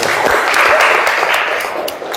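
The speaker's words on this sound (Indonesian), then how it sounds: "Bagus. Beri tepuk tangan." Children in an Islamic religious education class clap together in steady, continuous applause that fades slightly toward the end.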